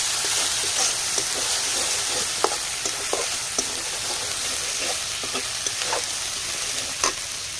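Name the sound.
ginger garlic paste frying in a pan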